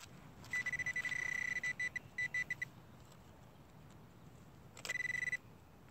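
A metal detector emits rapid, pulsing high-pitched beeps in bursts, quickening into a frantic stream, then pausing before another short burst.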